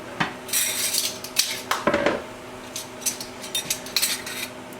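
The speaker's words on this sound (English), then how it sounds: "I'm gonna put on my rings, just finger tight." Metal canning rings and lids clink against glass jars of strawberry jelly, a string of sharp, irregular metallic taps and rattles at close range with no talking.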